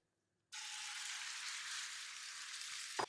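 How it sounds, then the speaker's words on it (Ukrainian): Meat frying in plenty of hot oil in a pan, unseasoned: a loud, steady sizzle bursts in suddenly and hisses on without pause, with a brief clatter just before the end. "І сюди виставляю смажитись м'ясо"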